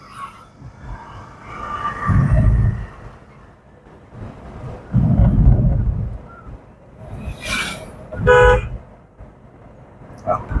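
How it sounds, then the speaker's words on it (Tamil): A car horn toots a couple of short times amid low engine rumble and road noise, with a voice talking in between. "ஹார்ன் அடிங்க"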